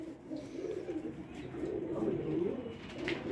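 Pigeons coo softly in a breeding loft, a low, rolling burble that repeats through the whole stretch with faint rustling and no clear talk.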